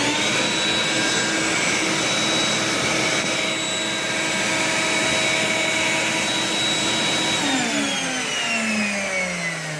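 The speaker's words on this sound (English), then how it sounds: "So when I turn the router on, everything goes on at once." A router mounted in a DIY router table runs together with a shop vacuum hooked up for dust extraction, making a loud, steady roaring whine that holds for several seconds before its pitch drops as the motors begin to spin down.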